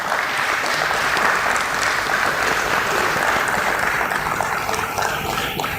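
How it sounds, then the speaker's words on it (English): Audience applause fills a listing ceremony at the BSE stock exchange, a dense, steady clapping from a crowd that carries on without pause for about six seconds, fairly loud and close. "Can we have a round of applause for him?"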